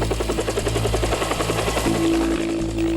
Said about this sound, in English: On cue, the extraction chopper arrives and the teams are uplifted with all on board.